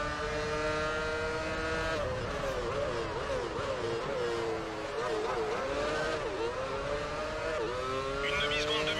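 A Formula 1 car in F1 Championship Edition at the Malaysian circuit accelerates and shifts through gears, its high engine note rising and dipping repeatedly, with someone talking over it.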